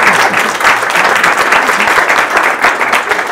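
Sustained applause from an audience at a Transcendental Meditation birthday celebration in Serbia, welcoming a guest seated in the back row; dense, steady clapping fills the room throughout.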